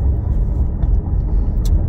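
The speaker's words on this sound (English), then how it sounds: "We're in the car right now, on our way to an appointment." Cabin of a moving car on the road, steady low rumble of engine and tire noise filling the space, loud and continuous with no voices.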